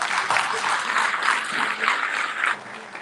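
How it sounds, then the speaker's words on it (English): A crowd at a Houston mayoral campaign event bursts into applause, with a steady wash of clapping that rises and dips for about three seconds. "Please give him a big round of applause."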